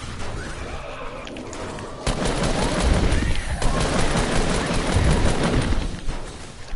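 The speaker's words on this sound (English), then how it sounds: "Do not stay still, you're getting shot." Dense gunfire in a Halloween-themed online shooter match, bursts and rapid volleys layered over one another, loud and continuous, intensifying sharply after a quieter opening stretch.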